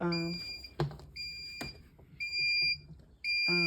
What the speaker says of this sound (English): I just pushed the OK button to make it stop beeping